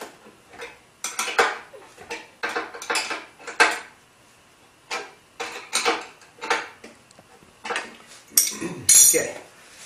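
Metal washer and lock nut clinking and rattling while being handled during assembly of a wooden martial arts dummy frame, a steady series of close, sharp metallic clicks and chinks.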